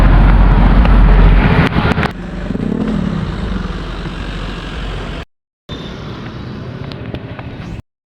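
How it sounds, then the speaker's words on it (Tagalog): A motorized tricycle ride with its engine running loudly up close, a rough droning motor with revving at the start, then a steadier rumble, broken by a brief cut of silence. "sasakay na lang tayo ng tricycle"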